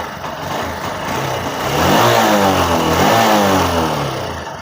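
A BS6 motorcycle engine runs on a fuel pump tester, revving up and down with a rising, swelling mid-pitched vroom, loud and close, with no talking.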